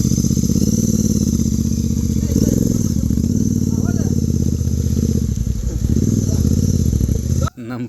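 A GT motorcycle engine roars loud and close as the bike is forced up a muddy monsoon slope near Jog Falls, revving hard and steadily throughout, then cutting off abruptly at the end.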